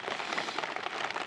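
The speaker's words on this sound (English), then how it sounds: "it just continues to rain" Rain falls steadily during a Kodiak bear hunt, a dense soft patter with scattered crackling drops, continuous and even throughout.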